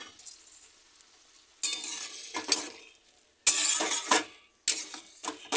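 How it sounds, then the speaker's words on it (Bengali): Onions and spice paste sizzle loudly in a pan for a chilli fish dish, in several strong bursts separated by quieter pauses, with stirring scrapes and no talk. "এই মশলাটা দিয়ে এবারে কষিয়ে নেব।"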